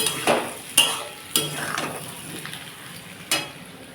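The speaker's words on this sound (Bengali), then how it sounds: "এর থেকে এখনো তেল বেরোয়নি এখনও কষতে হবে" Spice masala being sautéed in oil in a pan for rohu fish curry with potato and drumstick, giving a soft continuous sizzle punctuated by several sharp scrapes and clinks of stirring, close and moderately loud.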